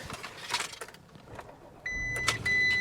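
A 2019 Audi Q7 with low coolant starting up: after a brief quiet stretch a crank catches and settles into a steady idle, with a high chime tone from the dash sounding over the engine noise.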